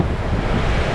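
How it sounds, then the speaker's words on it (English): Strong wind buffets the microphone in a steady, roaring rush, with a surf-like wash underneath and no voices. "Yes, it's windy"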